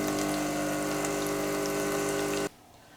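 A DeLonghi Autentica coffee machine flushes water through its system during descaling, a steady pump hum with running water that cuts off abruptly near the end.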